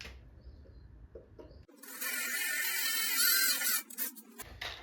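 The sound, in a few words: drill bit drilling a hole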